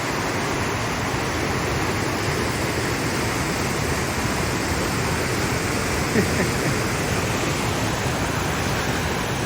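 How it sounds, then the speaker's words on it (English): Steep mountain river water thundering over rocks, a loud, constant broadband rush filling the scene without pause. "This water is thumping."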